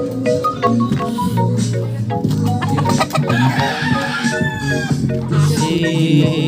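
A rooster crows loudly among clucking chickens, several calls overlapping in a busy, close-up barnyard chorus.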